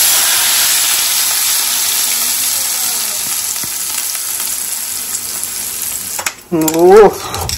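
Hot oil hissing and sizzling steadily in a pan, a loud bright frying sound close by, with a voice briefly speaking near the end.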